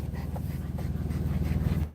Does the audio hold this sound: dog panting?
yes